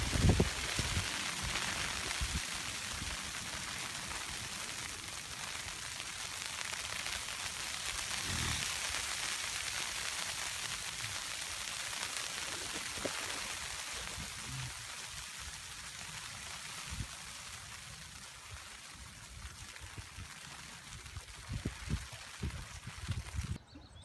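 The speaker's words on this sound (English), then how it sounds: "we've had the hail and a bit of rain" Hail and rain fall steadily around a lightweight hammock camp on a floodplain, a dense continuous patter on surfaces with occasional sharper drops, close and even throughout with no voices.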